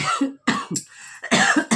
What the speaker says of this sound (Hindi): बार बार खांसी आए जा रही है आज मेरे को